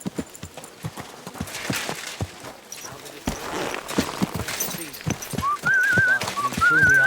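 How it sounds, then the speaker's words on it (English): A character whistles a short tune in the medieval game Kingdom Come: Deliverance 2, rising clear near the end over the close clip-clop of horse hooves, footsteps and faint background voices. "Are you whistling just for fun?"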